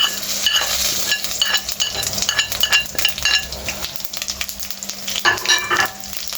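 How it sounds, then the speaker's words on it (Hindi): Six whole round dried red chillies crackle and sizzle in hot oil as a tempering for turnip and pea curry, a loud, steady frying hiss with scattered pops and a few light metal clinks throughout. "मैं लगा रहा हूँ इसको पहले बघार"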